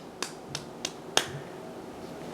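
A baby's hands clapping indoors, four sharp, quick claps spaced a little over a quarter second apart before the sound drops to quiet room tone.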